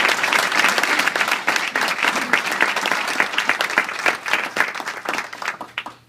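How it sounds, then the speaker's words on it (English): Audience applause at a Salvation Army award event, a dense steady clapping from a room full of people that carries on for several seconds before fading out at the end. "A little round of applause."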